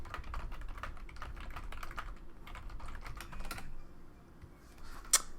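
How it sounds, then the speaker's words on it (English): Rapid typing on a computer keyboard with a steady patter of keystrokes, set against a busy background hum, pausing briefly before a final sharp click. "Just type here real quick."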